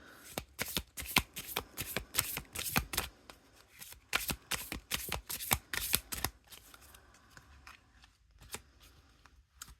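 A deck of Persian tarot cards in matte cardboard with no plastic coating is shuffled by hand in close, rapid riffling bursts, then slows to a few scattered soft flicks and taps.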